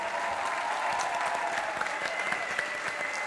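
Applause for a band at a centenary musical tribute, a steady dense clapping crowd sustained evenly throughout at moderate distance.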